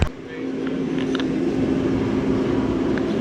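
Mud rig truck pulling away, a steady engine drone with a constant low hum holding throughout at moderate level, faint clicks and rattles above, no pauses.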